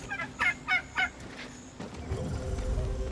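Turkeys gobbling in the survival video game Soulmask: three loud, rapid gobble bursts close by, followed by quieter rustling and a low rumbling in-game ambience.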